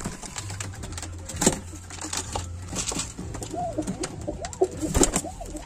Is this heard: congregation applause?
no